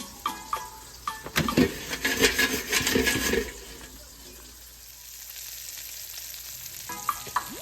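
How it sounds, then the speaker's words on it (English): Onions sauté in butter in a cast iron skillet, giving a burst of loud crackling sizzle and clatter for a couple of seconds before settling to a quieter hiss with faint clicks. "I did decide to go ahead and grill up some onions in butter, or saute some onions in butter"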